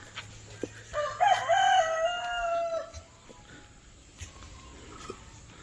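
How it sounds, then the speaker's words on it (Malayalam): A turkey calling at a tourist spot in Thattekkadu, one loud close gobbling call lasting about two seconds, with quiet outdoor background before and after. "ടർക്കിക്കോഴി."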